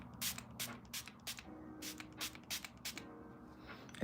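Glitter makeup setting spray is misted toward the face in a series of short, sharp hissing pumps, about a dozen bursts spaced irregularly, close and clear with no talking.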